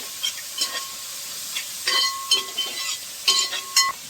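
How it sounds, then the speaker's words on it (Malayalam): Ginger, garlic, onion and green chili sauté in a pan, with intermittent bursts of sizzling and stirring scrapes, a few brief metallic clinks standing out between the quieter hissing stretches. "ഇഞ്ചി വെളുത്തുള്ളി സവാള ഇഞ്ചി വെളുത്തുള്ളി പച്ചമുളക് എല്ലാം കൂടെ ഇട്ട് വരയ്ക്കുക"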